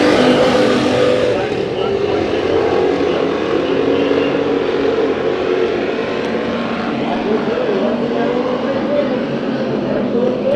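Hobby Stock race cars roar around the Bakersfield Speedway oval in a heat race, a dense, continuous engine drone with an announcer talking over it.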